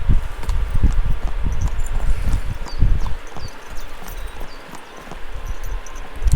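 Horse hooves clip-clop at a steady walking rhythm in the medieval video game Kingdom Come: Deliverance 2, close and clear over soft rustling ambience, the hoofbeats thinning toward the end.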